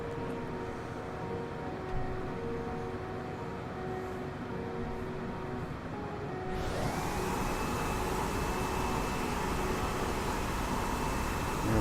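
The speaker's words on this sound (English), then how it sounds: "inside I end up hearing this loud vacuum cleaner" A loud vacuum cleaner whirs steadily nearby inside a cockpit in a flight simulator, a broadband rushing drone that swells abruptly halfway through and then holds constant with a rising whine, no voices heard.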